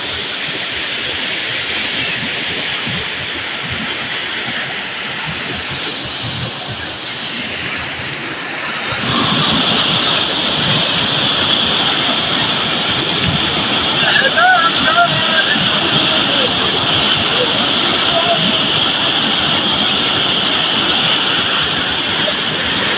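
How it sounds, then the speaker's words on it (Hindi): Water drops ten feet over a canal weir in a continuous roaring rush that swells noticeably louder partway through and then holds at a heavy, steady level. "इसलिए वहाँ पर काफ़ी शोर और पानी गिरता है 10 फुट की ऊंचाई से।"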